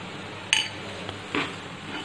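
A spoon stirring condensed milk in a metal pan while making bottle gourd burfi, with two distinct clinks of utensil against the pan over a quiet kitchen background.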